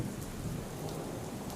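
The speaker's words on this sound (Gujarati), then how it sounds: "તો વલસાડમાં ધોધમાર વરસાદ વરસી રહ્યો છે અને દમણગંગામાં નવા નીર આવ્યા છે" Heavy monsoon rain pours down in Valsad, a steady dense hiss with a low rumbling undertone that stays loud and even throughout, with no voices.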